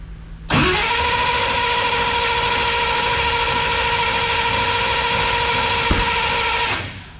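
A truck engine cranks in snowy cold, the starter whirring loud and close as one steady, droning turnover that holds for about six seconds and then cuts off, with no talking.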